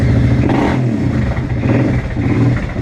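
Motorbike engine running loud and close, with a throaty rev swelling near the start and a steady, rough idle holding for the rest of the clip; no one talks over it.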